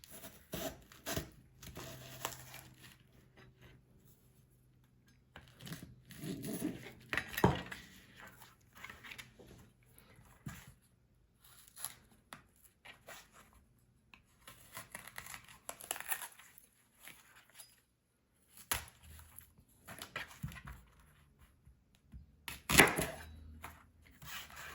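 Knife slicing leeks in half on a board, heard as quiet, scattered crisp cuts and crinkly rustles spaced irregularly across a mostly hushed kitchen, with no talk.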